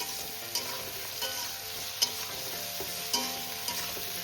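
Capsicum stir-fries with other ingredients in a hot pan, a continuous close sizzle punctuated by sharp clicks and scrapes of a spatula against the metal every second or so, without any talk.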